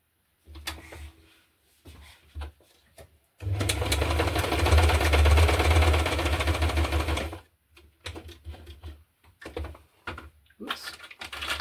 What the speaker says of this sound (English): Oh, my sewing machine is a bit dirty.